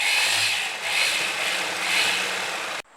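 A sewing machine stitching a kurti panel, running in a steady continuous whirring drone with slight pulsing, then stopping abruptly near the end, fairly close and with no talking.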